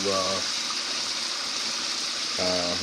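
Excess water drained from a pot of cooking yams, a steady rushing gush of water running throughout, with a person's voice briefly at the start and end.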